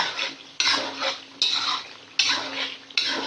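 Chicken fried with chilli, salt and spices in a karahi for Peshawari charsi chicken karahi, four sharp metal scrapes and clanks at a steady rhythm over an ongoing sizzle, close and fairly loud.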